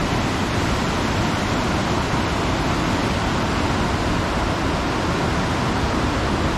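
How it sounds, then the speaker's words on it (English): The Colorado River rushes loudly through Hermit Rapids in the Grand Canyon, a dense, steady roar of churning whitewater close by with no other sounds over it. "The mighty Colorado."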